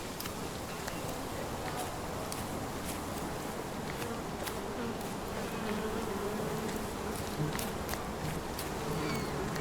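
Bees in the Sherlock Holmes Chapter One video game make a dense, constant buzzing swarm, loud and close, filling the whole stretch with no talk over it.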